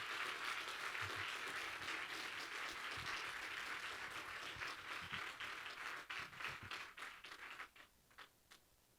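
An academic conference audience applauds steadily for several seconds, then the clapping thins out into scattered claps and fades away.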